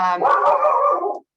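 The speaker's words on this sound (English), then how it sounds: "please excuse my dog who has chosen a very terrible time to pick a fight with the mailman." A dog barking at the mailman, one loud close drawn-out bark-whine that rises and wavers for about a second before stopping abruptly.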